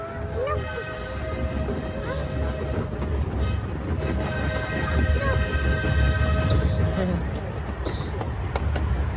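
An amusement park train ride runs past with a steady rumbling roll, rail clatter and bright mechanical whine, fairly loud and close, while crowd chatter and people talking go on throughout.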